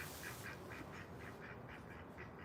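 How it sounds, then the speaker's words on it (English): Ducks quacking in a quick, regular series of about nine calls, fairly faint, heard alone against a soft background. "The ducks are fine."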